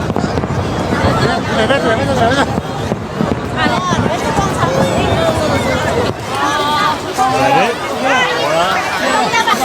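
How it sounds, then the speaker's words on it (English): Booming Chinese New Year fireworks in Guangzhou, China, go off repeatedly over a loud, excited crowd, with people chattering and calling out throughout. "Fireworks. We see fireworks."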